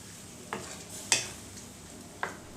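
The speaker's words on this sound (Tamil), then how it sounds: "கடலை மாவு உள்ளே சேர்த்துட்டு நல்லா கலந்து விட்டுடலாம்" A spoon scrapes and clinks against a pan a few times while gram flour mixture is stirred into potato masala, with short sharp metallic taps over a soft background hiss.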